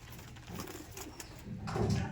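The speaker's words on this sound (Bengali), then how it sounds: "দেখতে পাচ্ছেন প্রচুর অ্যাগ্রেসিভ পায়রা" Giribaz pigeons coo in low, throaty repeated calls, close and fairly loud, building toward the end with no voices.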